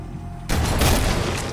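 A booby-trapped shotgun explodes in a video game: after a short quiet lead-in, a sudden loud, close blast erupts and its rough, crackling roar keeps going to the end.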